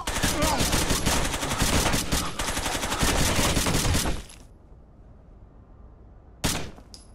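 Rapid automatic gunfire from a shooter video game fills the first four seconds as a dense, loud burst, then cuts to near quiet before one more short blast near the end.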